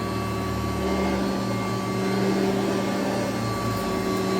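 A Kirby vacuum cleaner, G4/Sentria/Heritage 1 or Ultimate G Diamond Edition, runs continuously with a loud, steady motor whine and a constant airflow roar, close by and unbroken throughout.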